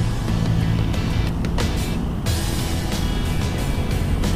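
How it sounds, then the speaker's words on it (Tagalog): Dense road traffic of cars and motorcycles in Antipolo, heard from a moving scooter: a steady, loud wash of engine and road noise with nearby vehicles rumbling past continuously. "So napakarami talagang sasakyan at napakarami na rin talagang motor."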